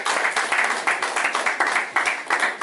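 A church congregation applauds in a steady run of rhythmic, close clapping that continues alone throughout, without speech.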